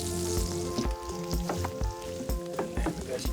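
Bread dough sizzling and frying in garlic oil in a hot pan over a raging open fire, a loud, steady crackle with bursts of spitting throughout.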